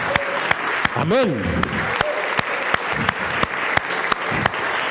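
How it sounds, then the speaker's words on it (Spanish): A church congregation claps loudly in a fast, even rhythm during a worship service while someone speaks over the applause. "Denle un fuerte aplauso al Rey, hermano."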